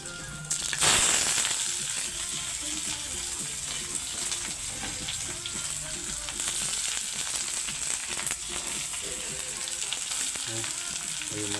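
Onions sizzle and fry steadily in a pan, a dense continuous crackle close by, with a brief louder burst near the start as they hit the hot oil.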